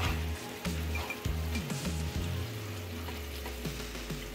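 Jamaican brown stew snapper simmers in a pan, giving a faint, steady sizzle and soft bubbling with a few light clicks and no talking.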